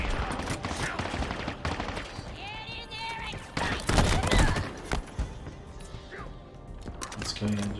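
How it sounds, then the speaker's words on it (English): Video game sniper and gunfire, a dense run of loud sharp shots and bursts mixed with in-game effects and a talking voice over them. "He is using a sniper."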